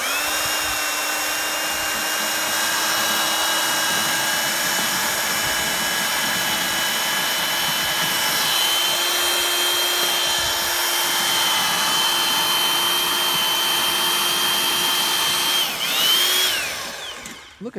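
Electric earth auger boring a post hole into hard, salty ground, run from a Honda EU2000 generator, giving a steady loud motor whine for the whole stretch that dips and winds down at the end.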